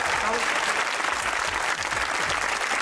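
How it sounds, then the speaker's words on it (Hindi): A studio audience at a comedy talk show breaks into dense, sustained applause, loud and even throughout, with crowd voices under the clapping. "तालियां हो जाइए।"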